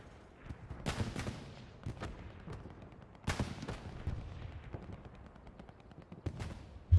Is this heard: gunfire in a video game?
yes